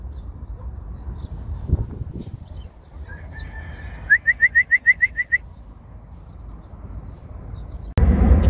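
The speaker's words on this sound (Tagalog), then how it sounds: "Idol, first bird natin." A racing pigeon returning to its loft in windy weather is met by a rapid run of sharp, rhythmic whistles over faint outdoor background, followed by a sudden burst of noise.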